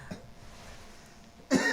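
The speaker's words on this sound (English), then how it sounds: "Just cough it out." A man coughs after something went down the wrong pipe: a brief faint cough near the start, a pause, then a louder, harsher cough burst at the end.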